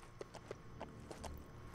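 Horse hooves clip-clop at a steady walking rhythm in a Lego Lord of the Rings video game, about six distinct, fairly quiet knocks over a low background hum.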